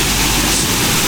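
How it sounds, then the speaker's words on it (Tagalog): River water rushes loudly and continuously beside a riverbank in the middle of a city, a dense, unbroken wash of noise filling the brief moment. "kita rinig nyo naman siguro yung lagaslas"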